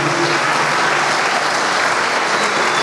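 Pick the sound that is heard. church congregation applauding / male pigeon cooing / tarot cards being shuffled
church congregation applauding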